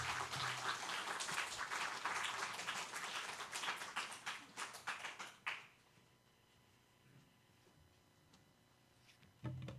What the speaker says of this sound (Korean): 우리 목사님 등단하실 때 박수로 환영하겠습니다